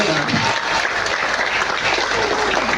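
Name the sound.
audience applause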